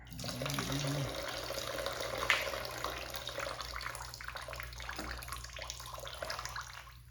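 Liquid pours and splashes steadily while a BMW M20 engine's damaged oil pan is cleaned, a close, wet trickling stream that tapers off gradually toward the end.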